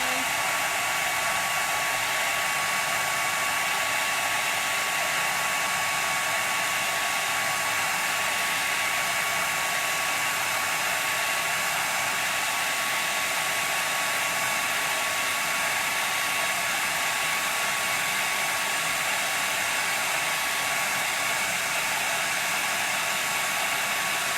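A hair dryer blows continuously at close range to dry a painted letter K during a children's craft activity, a loud, unbroken whooshing hum with no talk over it.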